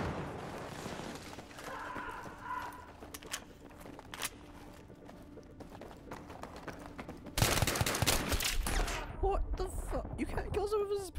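Gunfire crackles through a Battlefield 3 Gun Master match: scattered shots and rapid bursts at first, then a louder, denser stretch of close automatic fire near the end, with voices talking over parts of it.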